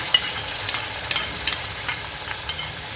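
Curd beaten with ginger-garlic paste sizzles in hot oil for a mushroom curry, with a steady broad hiss and faint scraping stirs throughout, close and alone.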